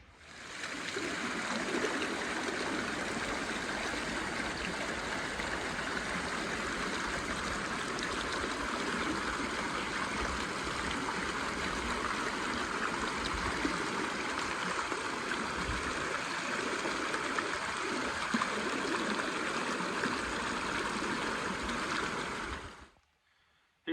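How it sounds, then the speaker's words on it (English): A creek flows steadily outdoors, a constant broad rush of running water close by that holds evenly for over twenty seconds before cutting off abruptly near the end. "the creek is just a nice backdrop"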